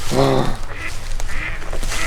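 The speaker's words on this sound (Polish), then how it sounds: "Kaczki." A duck at a forest pond quacks loudly up close in a short nasal burst, followed by faint rustling and a few softer sounds.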